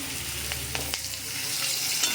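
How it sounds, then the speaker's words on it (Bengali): Potatoes fry in hot oil in a wok with turmeric, making a steady sizzle close by with a few sharp clicks near the start, alone and brief. "আলু কটা হালকা একটু ভাজা ভাজা হয়ে যাবে"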